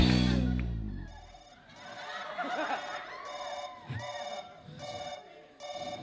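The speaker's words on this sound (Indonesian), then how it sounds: "Oh, telepon." A telephone rings in repeated short electronic trills with gaps between bursts, heard over a busy indoor scene with voices and laughter.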